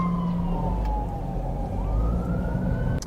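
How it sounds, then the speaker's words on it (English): An ambulance siren passes by, a sustained wailing tone that slowly falls and then shifts upward over a loud road-noise rumble, fairly close, with no talk. "there was an ambulance that was coming by and I could hear their sirens going off"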